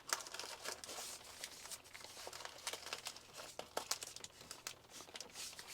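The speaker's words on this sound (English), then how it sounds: "then it says to fold excess paper" Paper being folded and crinkled around a wooden paper pot maker, producing soft, close, irregular crackles and rustles, faint overall.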